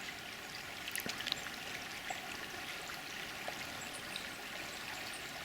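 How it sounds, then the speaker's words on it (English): A constant soft rush of flowing water, like a river running steadily in the background, with a few faint small knocks, heard from the woods on Michigan public hunting land. "Got some nice noises from the river to mask my walking in here."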